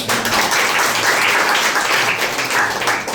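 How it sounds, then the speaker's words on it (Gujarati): Energetic clapping from a crowd at a village primary school event, sustained and loud throughout the short stretch, with no voices over it. "ભરતભાઈ બાવરા અને પરિવારજનો માટે જોરદાર તાળીઓ કરી"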